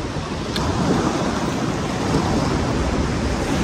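Steady, broad roar of sea waves washing continuously, with a rushing, windy texture and no voices.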